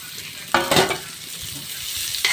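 Onions dropped into a hot pan, a couple of bursts of scraping and stirring followed by a soft, steady sizzle, with one more stir near the end.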